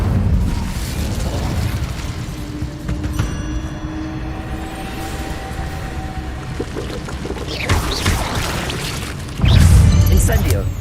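The Incendio fire spell is cast in Hogwarts Legacy on PS5, sounding as a rushing, booming burst of flame. A steady magical hum runs beneath it before a loud whoosh surges near the end.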